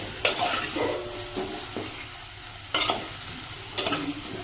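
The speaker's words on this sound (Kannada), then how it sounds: "ಈಗ ಇದನ್ನು ಸ್ವಲ್ಪ ತಿರುವಂಬ್ರಿ." Brinjal curry fries in oil while a spoon stirs it, sending out a few sharp scraping strokes over a soft, steady sizzle, close and fairly quiet.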